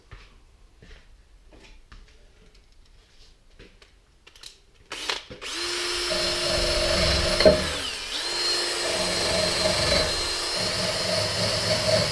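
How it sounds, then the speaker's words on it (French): A power drill with a wire brush attachment, used while working on a Toro Z4200 Timecutter mower that will not start, spins up after a quiet stretch with clicks and runs loud and steady up close. "comme on a des drills avec des brosses, on va prendre une brosse"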